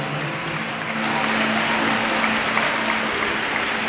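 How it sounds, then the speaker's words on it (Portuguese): A church congregation at an evangelical service claps together for Jesus in a sustained, dense round of applause that swells slightly midway, with a faint held tone underneath. "as palmas para Jesus"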